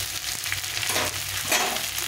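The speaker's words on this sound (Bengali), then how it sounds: "একদম ভাজা ভাজা করে নেব সবজিটাকে" Chopped pointed gourd and ridge gourd fry in a pan with a steady, close crackling sizzle, broken by a few scraping stirs.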